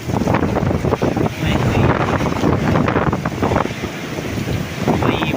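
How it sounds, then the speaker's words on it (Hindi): Strong gusting wind roars steadily during a rainstorm, a dense, buffeting rush that sounds close and loud against the microphone, with a faint voice in places. "बहुत हवा है बहुत"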